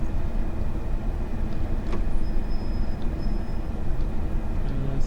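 A Class 460 Gatwick Express electric train running in Train Sim 2021, giving a steady, loud rolling rumble with faint high whines and occasional clicks, no voices.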